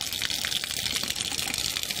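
Water gushes steadily from the five-tonne tank of a water tanker truck, filling containers in a continuous loud rushing stream with no pauses.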